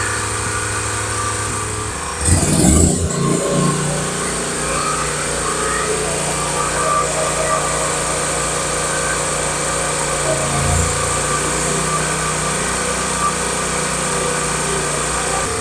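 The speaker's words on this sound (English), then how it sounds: "that thing sounds like a race mower or something." A small engine runs steadily like a racing lawn mower, a loud high buzzing drone that holds nearly constant throughout, with a brief rough burst early on and a slight swell near the end.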